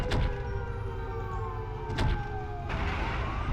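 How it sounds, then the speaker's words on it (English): Wailing war siren in the kaiju video game Kaiju-A-Go-Go, fairly quiet, rising and falling in long sweeps over low background rumble. "There comes the war siren"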